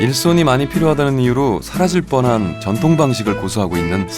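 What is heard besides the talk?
No everyday noise stands out behind the speech.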